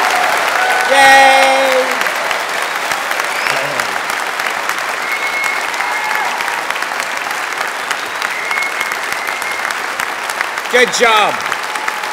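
A crowd gives graduates a loud, sustained round of applause at a Belfast degree ceremony, dense clapping throughout with brief cheering voices rising over it near the start and again near the end.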